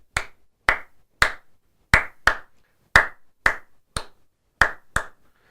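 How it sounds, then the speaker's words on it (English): Hands clap a syncopated rhythm alone, eleven crisp, close claps in an uneven pattern of pairs and singles, with silence between them. "you should try to clap it before you get to the guitar part"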